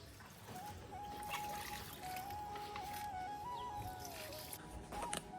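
Water is poured into plant pots outdoors on a warm evening, making a faint, soft trickle and dribble alongside a thin high whistling tone in a quiet setting.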